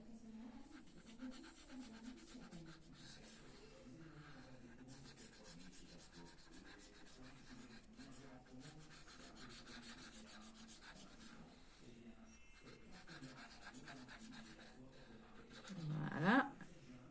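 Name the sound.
rubbing paper edges to stick them down while scrapbooking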